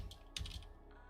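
Typing on a computer keyboard during a Guild Wars 2 gaming session, a short quick cluster of several clicky keystrokes close to the mic with no talking, quiet overall.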